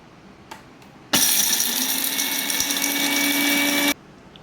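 A kitchen mixer grinder grinds cinnamon, clove, cardamom, ginger and garlic into a paste. A couple of light knocks come first, then a loud, steady whirring motor runs close by for nearly three seconds and stops abruptly.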